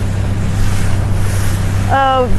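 Steady wind and surf noise out on open water during a 470-class junior world championship sailing race, a constant low roar buffeting the microphone, with a brief voice-like tonal sound near the end.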